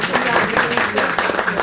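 Guests at a ministry celebration applauding, a dense burst of close clapping mixed with voices talking over it.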